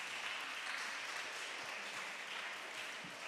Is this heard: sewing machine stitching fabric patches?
no